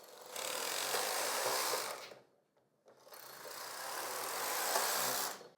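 Brother 965i knitting machine carriage sliding across the bed to knit a circular row, two long steady rattling passes of about two seconds each, close and fairly loud, separated by a brief quiet pause.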